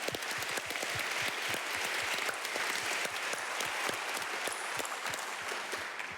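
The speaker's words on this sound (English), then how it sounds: "I think they need an applause" Steady, dense applause from a sizable conference audience, many hands clapping continuously at an even level throughout, with no voices standing out.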